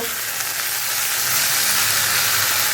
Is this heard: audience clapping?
no